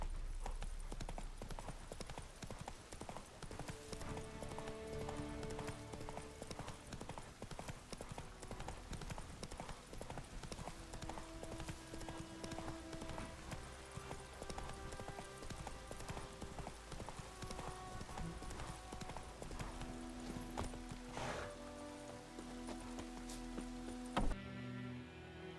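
Horse hooves galloping in the video game The Witcher 3, a fast steady clip-clop rhythm sustained throughout with game ambience beneath and a brief thump near the end.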